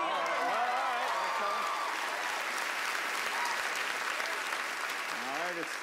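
Television studio audience breaking into loud, sustained applause for nearly six seconds, a dense wall of clapping with cheering voices rising over it at the start and again near the end.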